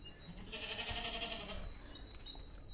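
Goats bleating on a farm, a few calls blending together for about a second, close and moderately loud over steady outdoor background noise.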